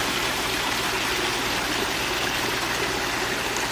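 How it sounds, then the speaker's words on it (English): Small mountain streams run down the rocky slopes of San Jacinto Peak, a steady, close, broadband rush of flowing water that stays even and continuous throughout with no voices. "And you're going to have these nice little streams coming down the peak."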